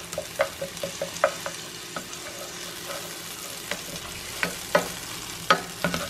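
Onions fry in a skillet with garlic and bacon fat, with a low sizzle and a series of light taps and scrapes as the pan contents are moved around. No one speaks.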